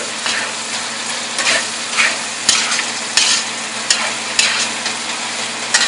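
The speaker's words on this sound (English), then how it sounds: "add your ginger and give it a quick mix with your ginger." Ginger stirred into pork frying in a pan for masala pork khadai, a steady loud sizzle with repeated scraping strokes of the spoon at a regular pace.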